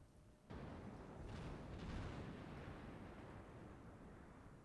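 Anti-aircraft fire in the naval carrier-strike game Task Force Admiral, a dense continuous rumbling roar of distant bursts that swells suddenly and then rolls on steadily with faint crackling peaks.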